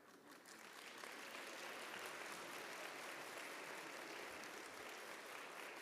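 At a college stole ceremony for the class of 2022, an audience keeps up sustained applause for a pianist. The dense, even clapping is heard alone and holds steady throughout.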